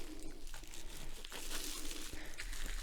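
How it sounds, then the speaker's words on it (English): A plastic wrapper crinkles and rustles as an art supplies box is slowly unwrapped, continuous close crackling with a few brief sharper crunches over a steady background hiss. "Now, let's get to unwrapping."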